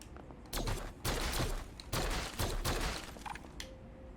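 Shots fired at crates in an indie video game ring out in several loud, sharp bursts of rapid fire separated by short pauses, with a faint mechanical tone near the end.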